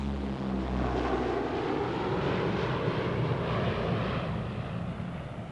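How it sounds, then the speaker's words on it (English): A De Havilland propeller airplane takes off, its engine roaring loud and steady with a broad droning whine that holds strong throughout, then eases slightly at the end. "To complete the demonstration, the pilot swung around and took off again."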